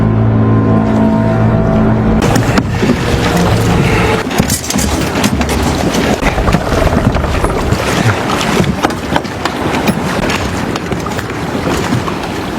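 A small boat's motor drones loud and close at night near a wrecked ship in a film, a continuous rumbling wash with wind buffeting and water noise after a brief tonal opening.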